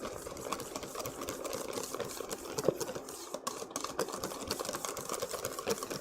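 Sugar whisked into cream in a bowl, producing quick, steady, faint rattling strokes of the whisk in a regular rhythm.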